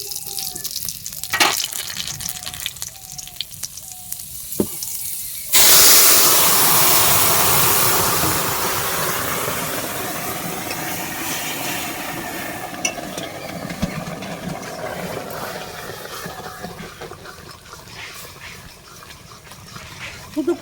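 Radhuni and nigella seeds hit hot oil for a tempering, setting off a sudden loud, hissing sizzle that gradually settles into steady crackling frying, after quieter kitchen sounds with faint clinks.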